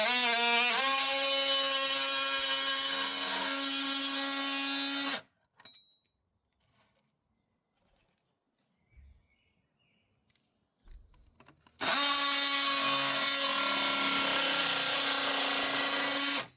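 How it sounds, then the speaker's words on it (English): A multi-tool fitted with a bimetal fine-tooth blade saws through an acrylic bath panel in two loud, buzzing bursts of several seconds each, separated by a quiet pause with small handling knocks. "a bimetal fine-tooth saw blade in a multi-tool to make the cut"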